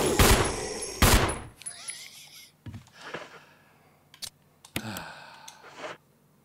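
Gunfire aimed at attacking dogs in the Resident Evil video game: several sharp, loud shots spaced irregularly across the clip, each with a short ringing tail, and quieter thuds and clicks in between.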